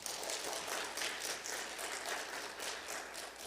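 A church congregation claps in thanks during an ordination service, a soft, distant, continuous patter of many hands with gentle swells, quiet and without speech.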